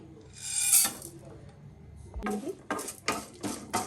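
Mustard seeds, chana dal and urad dal fry together in ghee and oil for upma: a bright hiss, then a few rough scraping, stirring bursts close by.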